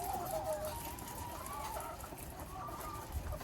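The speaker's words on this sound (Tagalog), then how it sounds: "So dito po kasi nandito yung mga manok natin, possible mataihan tayo ng mga dumi nila." Chickens in a backyard coop cluck and murmur softly throughout, with a few higher calls rising over steady low scratching and rustling close by.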